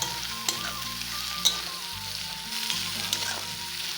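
Onions and green chillies fry in hot oil with a close, steady sizzle, punctuated by a few sharp clinks of stirring against the pan.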